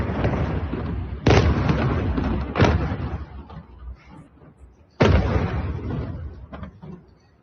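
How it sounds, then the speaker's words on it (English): Airstrikes on Tehran produce three heavy, booming explosions spaced a few seconds apart. Each one rumbles and fades slowly through a continuous low background roar. "let's go to the capital and see the latest round of airstrikes"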